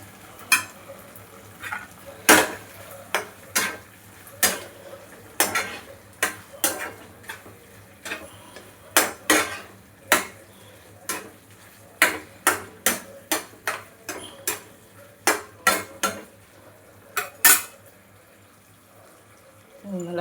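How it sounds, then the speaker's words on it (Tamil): Soya chunk (meal maker) manchurian with soy sauce fries in a pan while a spatula stirs it, giving a quiet, irregular run of close taps and scrapes against the metal over a faint background hum. "நல்லா ஃப்ரை ஆகட்டும்."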